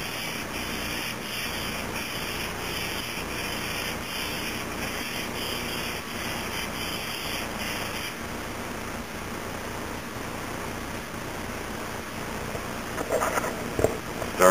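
Continuous hand sanding, a rhythmic scratchy rubbing of sandpaper stroking back and forth close by, steady throughout with a few louder scrapes at the end.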